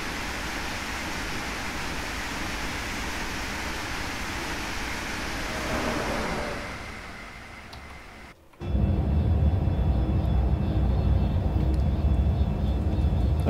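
Airbus airliner on landing approach to Frankfurt am Main airport in Train Sim World 5, a broad continuous jet roar that fades, cuts out briefly, then returns as a louder low rumble.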